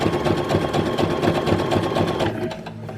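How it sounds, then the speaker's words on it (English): A domestic sewing machine stitches stretchy bra fabric in a fast, even, rattling run that stays close and steady, then slows and stops in the final half second. "so when I sew it, I've got to pull it again"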